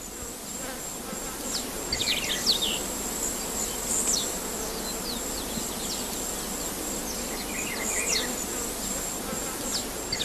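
Bees buzz continuously among Malpighiaceae flowers, a dense steady insect drone with individual buzzes passing close.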